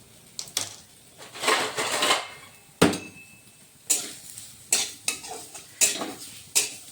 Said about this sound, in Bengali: এখন তিলগুলোকে আমি সামান্য ভেজে নেব।